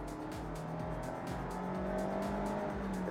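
Mazda Miata RF (ND) engine revving at high RPM toward its roughly 7,500 redline, a moderately loud, steady buzzing drone with rising and falling pitch sweeps, heard alone without speech.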